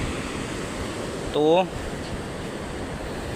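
Steady roar of strong wind and sea waves at a boat mooring runs throughout, broad and constant, with a brief spoken word breaking in near the middle.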